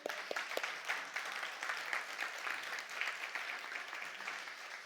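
A church congregation clapping for Jesus during a Spanish-language service, a steady rhythmic applause with a few sharper claps at the start, moderately distant and filling the room.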